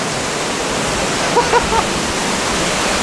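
Steady broadband rush of a waterfall in Bali, roaring evenly and close throughout, with a few faint brief chirps or voice-like sounds rising briefly near the middle.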